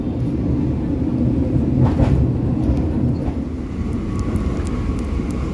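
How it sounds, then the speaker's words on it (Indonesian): The Cikuray train runs straight through Ciganea station in Indonesia, a continuous heavy low rumble of rolling stock with faint metallic clicks overhead, loud and close throughout. "Cikuray melintas langsung stasiun Ciganea."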